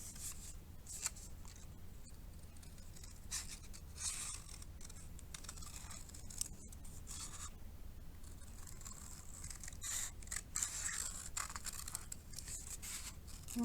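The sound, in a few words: scissors cutting paper around origami ornament outline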